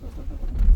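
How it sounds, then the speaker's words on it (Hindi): A new automatic car with a sunroof starting up, a brief low engine rumble that swells quickly into a louder catch in under a second, heard from inside the cabin with no talk. "गाइस गाड़ी स्टार्ट करते हैं।"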